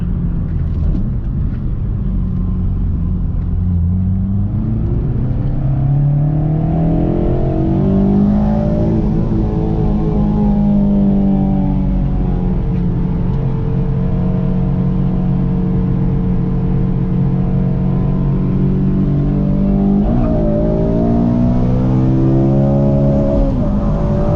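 An 8th-generation Honda Civic Si engine revs up steadily, pitch climbing through the gears as it accelerates hard to pass a truck, loud and close with no talking.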